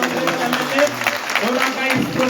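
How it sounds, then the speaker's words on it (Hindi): Audience applause at an Independence Day flag ceremony in Doda: steady, dense clapping from a crowd, fairly loud and continuous throughout, with a voice talking over it. "आप हजरात की जोरदार ताली से"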